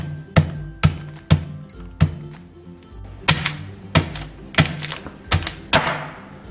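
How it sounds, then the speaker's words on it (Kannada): Gooseberries inside a plastic cover are pounded with a stone, giving about a dozen sharp, close thuds at an uneven rhythm, each strike loud and distinct with no talk. "ಒಂದು ಕಲ್ಲು ಅಥವಾ ಗುಂಡಿನ ಸೈಡಿಂದ ಕುಟ್ಟಬೇಕು ಇದನ್ನ."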